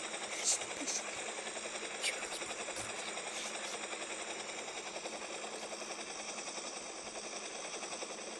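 A helicopter in a video game whirs with a steady, faint rotor chop and hum, punctuated early by a few sharp clicks or shots.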